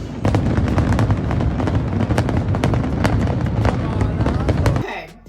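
Official Fourth of July fireworks at a baseball stadium, heard as a continuous barrage of sharp pops and crackling bursts at some distance, with faint voices underneath, ending abruptly.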